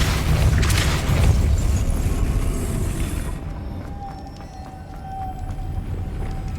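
A Depulso force spell from the Hogwarts Legacy video game lands as a heavy, booming blast with a deep rumble that swells, then thins into a lingering low drone and faint tonal game ambience.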